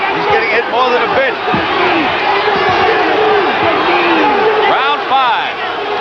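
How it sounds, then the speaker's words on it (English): A boxing arena crowd roars and shouts as the hometown favorite, Scott LeDoux, takes punches, a loud, dense wall of yelling voices with rising bursts, under a commentator talking. "Crowd on its feet."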